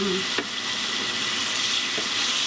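Beef sirloin bites searing in a hot pan, a loud, dense, continuous sizzle close up with a couple of faint clinks, no talking.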